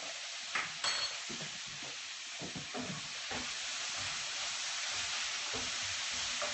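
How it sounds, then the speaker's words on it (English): Steady frying sizzle with a crackly hiss, accompanied by a few stirring scrapes and clinks near the start. "Can you hear the sizzling?"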